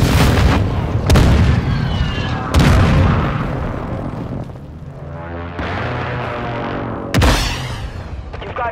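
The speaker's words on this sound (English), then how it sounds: "Hostile precision airstrike." Precision airstrike explosions in a video game: several loud, heavy booms with sharp onsets, spaced a second or more apart, each trailing into rumbling debris and a low throbbing roar.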